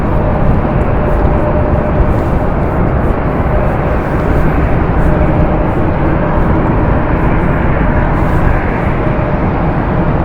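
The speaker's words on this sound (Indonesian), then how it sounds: "pesawat yang mau take off dan juga landing." Jet aircraft at Fukuoka airport, a loud continuous roar of engines dominating throughout, steady and close with no talking.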